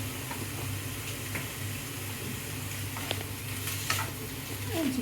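Washed chicken pieces, salted, cook in a pan with a steady sizzle and occasional stirring scrapes over a low continuous hum, close and fairly even throughout.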